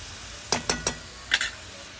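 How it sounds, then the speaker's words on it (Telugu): Several quick clinks and scrapes of a spoon stirring curry with oil and tomatoes in a pan, in two short bursts over a faint steady sizzle. "ఇలా మంచి ఆయిల్ అనేది పైకి తేలేదాకా మంచిగా కలుపుకుంటూ ఉండాలి"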